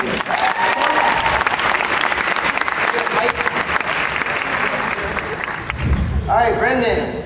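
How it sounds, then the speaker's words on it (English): A college audience at a magic show applauds a volunteer, loud continuous clapping for several seconds before it fades and a voice begins speaking over the last moments. "Give a round of applause for Brendan."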